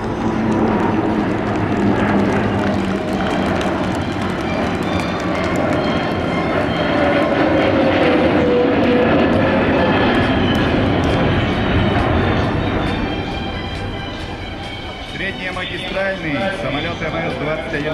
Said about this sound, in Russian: МС-21-300 впервые на авиасалоне МАКС в воздухе для вас, дорогие друзья, выполняется проход.